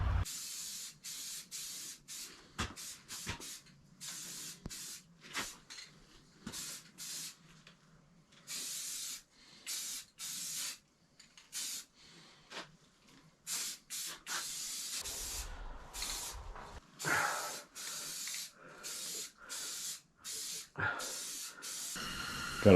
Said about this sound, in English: Only bought 2 rattle cans,